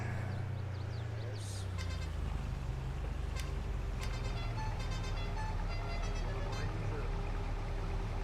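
A truck horn sounds in Farming Simulator 22 with a low, droning honk near the start. It plays over steady engine rumble, with scattered clicks and faint chatter in the background.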